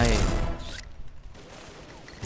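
Gunfire in the shooter game Xshot, a dense loud burst at the start that fades into a rumbling tail, with a sharp crack returning right at the end.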